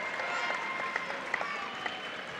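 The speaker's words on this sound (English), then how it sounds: "He gets an applause from the DeWitt crowd." Applause from the DeWitt home crowd at a January 1999 junior varsity basketball game, a steady wash of clapping across the gym with a few sharper claps popping out above it.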